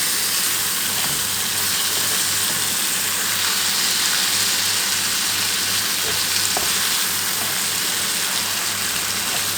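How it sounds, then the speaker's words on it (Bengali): Potatoes frying in a pan give off a loud, continuous sizzle that stays even for the whole stretch, close up and with no voices. "তো আমার আলুটা ভালো করে ভাজা হোক।"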